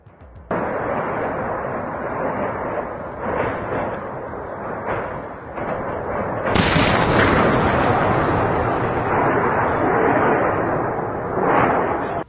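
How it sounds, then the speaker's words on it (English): Continuous loud blasts and rumbling from explosions as aircraft strike an ammunition depot in a war zone, with a sharper, heavier burst about halfway through and sustained roaring debris noise. "Footage of Russian aviation destroying an ammunition depot in Ukraine has emerged."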